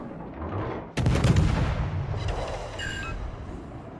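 Naval gunfire in World of Warships opens with a sudden loud boom, followed by a dense rumbling roll of further shots and distant booms that fade into a low continuous battle hum.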